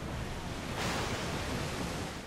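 Open-sea ocean waves in the pirate game Assassin's Creed 4 Black Flag wash in a steady broad roar, a surge swelling briefly midway, loud and continuous with no voices.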